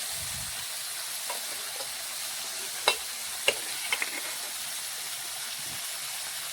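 Prawns and jackfruit frying in a pan give a steady close sizzling hiss, with a few sharp spatula clicks and pops scattered through the middle.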